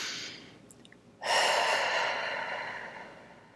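A person breathes during a relaxation tapping exercise: a soft, close inhale, then a longer, louder breathy exhale that slowly fades.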